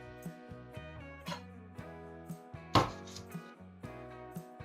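A knife chops tomato and onion for a burger on a board, giving a quiet, steady run of regular strokes over background music, with one louder knock midway.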